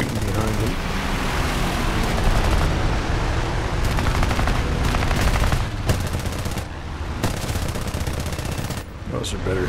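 Aircraft cannons and machine guns fire in rapid, dense bursts during an air battle in the War Thunder flight game, loud and sustained for most of the stretch, with brief gaps near the end.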